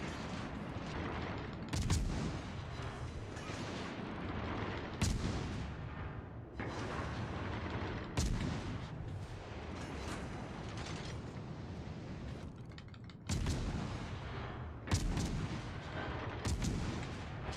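Naval ship guns fire in World of Warships Legends. Several heavy booming salvos with sharp cracks come at intervals of a few seconds, each trailing into a long rumble, loud against a continuous mechanical background.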